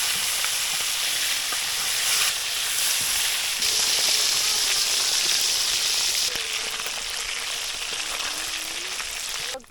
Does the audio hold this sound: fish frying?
yes